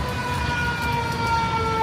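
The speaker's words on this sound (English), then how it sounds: "Oh, we got the ambulance. Or the fire truck, rather." A fire truck siren sounds during heavy rain, its steady wailing tones ringing clearly and fairly loud above the hiss of the downpour throughout.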